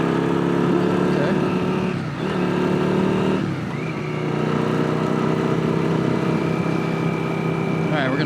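Yamaha Virago 535 motorcycle engine running steadily while riding, a continuous loud droning hum with a brief dip, heard close up under a rider's voice.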